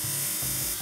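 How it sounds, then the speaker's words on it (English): A grinder machine shaping a Bidri metal piece gives a steady, even electric whine with a faint low pulsing throughout, close and unbroken for the brief moment. "So the next process will be on the grinder machine."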